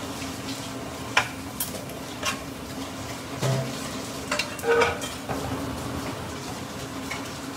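Pork ribs stir-fried in a wok with only a little oil, turned rather than tossed, giving a steady low sizzle with scattered metal spatula scrapes and clinks against the pan, close by and without talk.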